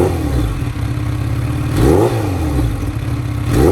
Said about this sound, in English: Let's give a couple of small revs.